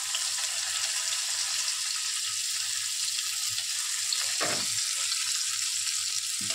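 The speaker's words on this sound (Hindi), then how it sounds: "अब मैं डाल दूंगी इसके अंदर कटे हुए प्याज" Chopped onions, cumin seeds and curry leaves frying in hot oil while cooking aloo matar, giving a steady, close broadband sizzle with a brief clatter near the middle and no talk.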